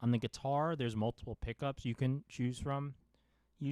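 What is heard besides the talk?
None of the usual background noises is heard.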